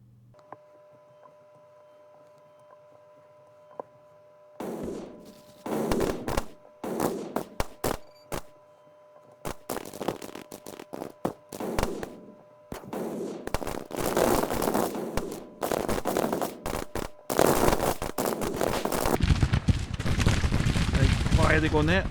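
Long-range rifle fire from troops in the Grand Tactician 1864 Civil War strategy game, starting after a quiet stretch as irregular crackling volleys and scattered shots that thicken into dense, continuous fusillades toward the end.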